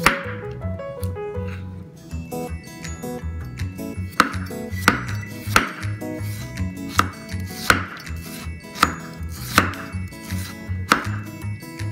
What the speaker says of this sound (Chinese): 好，现在我们来把紫菜头也切成丝。